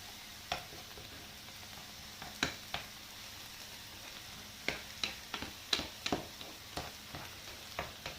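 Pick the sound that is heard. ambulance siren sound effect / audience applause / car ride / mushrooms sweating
mushrooms sweating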